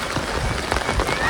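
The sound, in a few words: heavy rain falling outside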